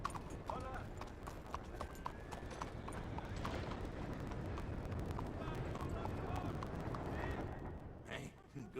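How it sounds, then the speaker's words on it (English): Horse hooves clip-clop steadily in the Red Dead Redemption 2 video game, with a faint whinny, under background bustle and game noise throughout. "Hey, good-looking horse there."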